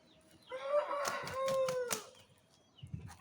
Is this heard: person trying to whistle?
no